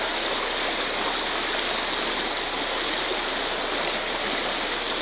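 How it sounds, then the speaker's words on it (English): A Berkshire river rushes steadily past while someone wades across it, a dense, continuous broadband wash of flowing water close by with no pauses or talk. "I'm walking across the river here."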